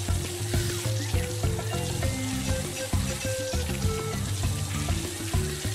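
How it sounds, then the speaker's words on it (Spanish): A water jet sprays steadily in the Paw Patrol: Grand Prix video game on PS5, a continuous hissing rush laid over bright electronic game music and effects, loud and unbroken throughout. "Apunta el chorro de agua moviendo el joystick izquierdo."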